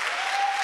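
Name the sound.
church congregation applauding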